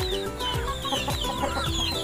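Chickens and chicks cluck and peep together in a backyard farm pen, a busy, continuous chorus of short repeated calls close by.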